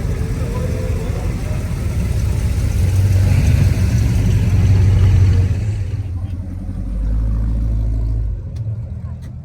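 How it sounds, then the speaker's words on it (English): An Edsel car rolls past at an outdoor Midwest car show, its engine rumbling low and growing louder as it nears, then fading, with crowd noise and talk in the background. "Oh, there's an Edsel coming."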